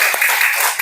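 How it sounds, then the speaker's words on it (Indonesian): A class claps for students who presented at the front of the room, a brief, loud burst of mixed hand claps that carries steadily through the short moment. "Beri tepuk tangan dulu untuk kita semua."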